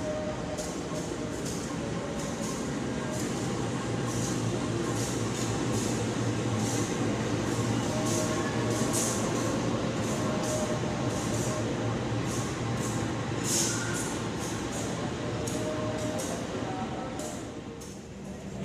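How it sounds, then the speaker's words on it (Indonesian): A steady, loud rumble of a locomotive passing straight through a station at close range, with a constant low drone and clattering wheel noise that fades slightly at the end. "lokomotif pulang Dipo melintas langsung"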